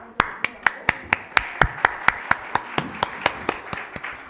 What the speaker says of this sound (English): Give a big round of applause for our little stars.